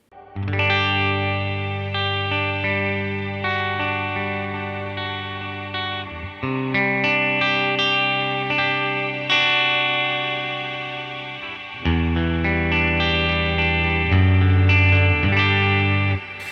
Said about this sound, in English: So you can hear we made our own reverb. I added some shimmer to it, I added some delay